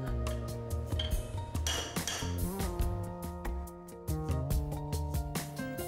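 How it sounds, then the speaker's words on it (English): A chisel taps roller bearings into place during a complete overhaul of a Mitsubishi purifier, giving a series of sharp, close metallic clinks with bright ringing tones at an irregular rhythm. "If the bearings do not insert smoothly, tap them with a chisel."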